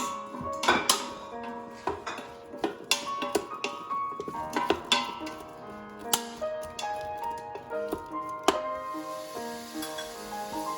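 Chopped onions are stirred in a cooking pot with hot oil, a close, irregular series of scraping clinks and taps from a utensil against the pot over a faint sizzle, with no talk.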